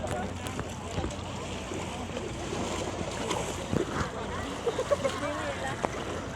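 Boat ride out to go island hopping, with steady engine and water wash running throughout and people chatting and calling out over it.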